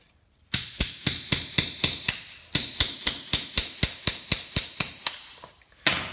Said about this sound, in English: So you get like a screwdriver or something like that, a punch, just give a couple taps